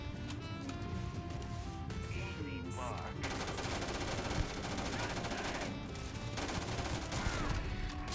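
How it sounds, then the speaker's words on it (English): An automatic weapon fires in the video game Starfield, sending out dense, rapid bursts of gunfire that roll on almost continuously over layered game music and effects. "This is an automatic weapon."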